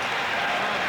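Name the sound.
applause on the NYSE trading floor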